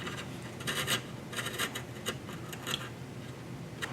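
A hand rasp scrapes wood while trimming the neck pocket of a 1960s Truetone guitar, in short, quiet bursts of rough rasping with brief pauses between strokes.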